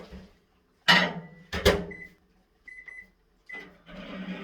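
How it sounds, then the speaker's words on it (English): A microwave oven heats chocolate and butterscotch, with short clunks and clicks of the door and controls, a few electronic beeps, and then the faint hum of the oven starting at the end. "Put this in the microwave for a minute."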